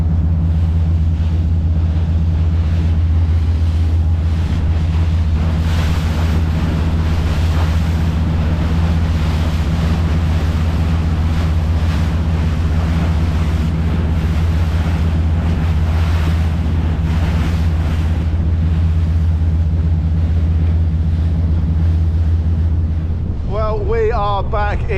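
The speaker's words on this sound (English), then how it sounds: "The wind is really picking up" Strong wind and sea wash roar around a powerboat near the River Dart, a loud continuous buffeting rush with engine drone beneath, which eases abruptly near the end.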